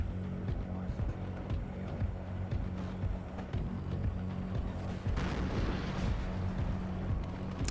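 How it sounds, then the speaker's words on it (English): Tank firefight in the WARNO war game, with an AMX tank fighting a T-62 in a city: dense, continuous rumbling gunfire and artillery booms throughout, loud and layered with no pauses. "It's an interesting little firefight going on here."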